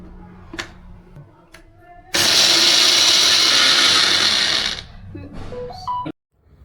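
A kitchen mixer grinder runs for a couple of seconds, crushing grated coconut and garlic for a Kannada-style brinjal masala, a loud steady whirring roar. It starts and stops abruptly amid softer clatter from handling the jar.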